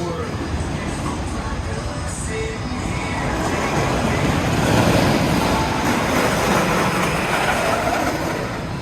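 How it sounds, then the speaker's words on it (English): Wooden roller coaster ride on Mind Blower by the Gravity Group, a steady loud rumble and rattle of the train on the wooden track throughout, swelling slightly midway, with riders' voices faint underneath. "We're gonna do Mind Blower, crazy wooden coaster from our friends at the Gravity Group."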